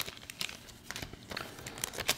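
A Topps Chrome trading card pack is torn open with brief crinkling and ripping of foil wrapper, close and fairly quiet.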